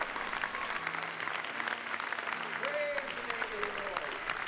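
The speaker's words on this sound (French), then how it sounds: "Applaudissons le Seigneur." A church congregation claps during a worship service, sustained crowd applause at moderate volume with voices calling out and a faint tonal hum running underneath.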